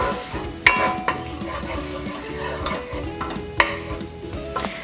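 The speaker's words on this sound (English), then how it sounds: "I'm gonna give the garlic a little mix." Garlic sizzling in olive oil in a pot while a spoon stirs it, soft scraping with a couple of sharper knocks against the pot over a continuous fry, close and without speech.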